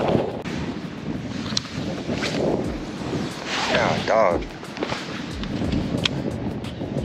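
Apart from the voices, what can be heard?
wind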